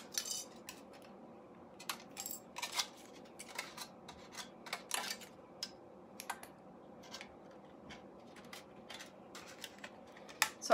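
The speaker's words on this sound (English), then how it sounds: "These scissors are having a problem." Scissors snip repeatedly in quiet, irregular bursts of short metallic clicks and crunches, close by, with no talking.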